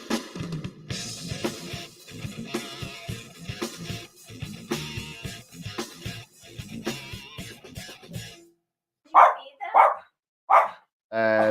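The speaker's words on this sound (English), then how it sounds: "the dogs are still barking" Dogs bark repeatedly in sharp, clustered bursts under a backdrop of music, then a few louder isolated barks ring out close by near the end.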